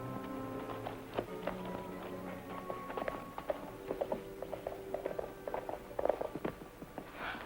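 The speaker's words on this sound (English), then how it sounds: "Get on your horse, Marge." Horse hooves clop irregularly on hard ground in a 1951 western TV scene, a string of sharp, fairly close knocks mixed with creaking, rattling tack over a low background.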